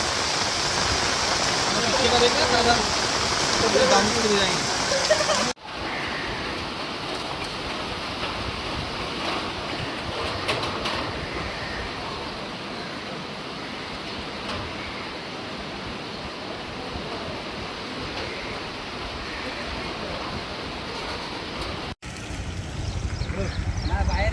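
Floodwater surges across roads in Nagothane, Raigad, a loud, continuous rushing roar that stays steady throughout, with abrupt cuts in level near the start and end and voices faintly mixed in.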